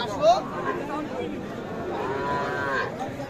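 Calves moo at the Aftabganj cattle market, one clear drawn-out low call rising over the busy murmur of people talking nearby, with other animals audible in the background.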